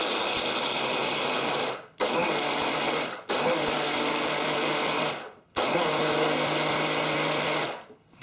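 A blender whirs loudly up close as water is blitzed into a syrup for a no-bake cheesecake, running in four steady bursts with brief pauses between them.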